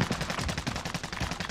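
Rapid automatic gunfire in a Call of Duty match, a dense, continuous burst of shots at close range, loud and unbroken, with no talk over it.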